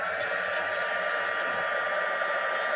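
Embossing heat tool, set to setting 2, blowing steadily on a heap of embossing powder during a card-making session; a loud, continuous hair-dryer-like whoosh fills the whole clip with no talk.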